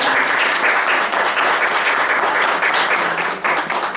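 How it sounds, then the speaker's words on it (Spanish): An audience applauds warmly before a talk about insects, with a sustained, even roar of clapping from many hands throughout, no voices above it. "Un aplauso, un aplauso"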